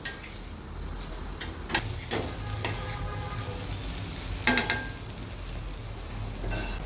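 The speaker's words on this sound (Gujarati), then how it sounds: "ઘી આવી રીતે ગરમ થાય ત્યારે આપણે એમાં બાફેલા છોલે નાખી દઈશું અને એનો 1 મિનિટ સોતરીશું." Boiled chickpeas sizzle and fry in hot ghee while being stirred in a pan, a steady crackling hiss with scattered utensil scrapes and clinks throughout.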